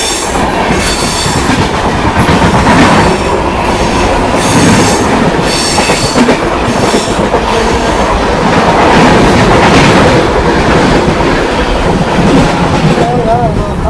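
Palnadu SF Express, an LHB-coach train, pulls out and rolls on toward Secunderabad Junction with loud, close rumbling, rhythmic clickety-clack over rail joints and intermittent wheel squeals, steady throughout.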